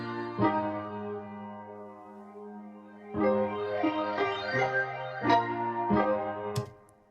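Drum-kit accent hits from the Bliss sample bundle layered over a sustained piano loop, with several sharp percussive strikes cutting in at irregular points above the held chords in an RnB-style production.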